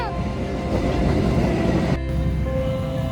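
A loud, rumbling train rolls past close by, a dense continuous roar with metallic tones shifting midway through.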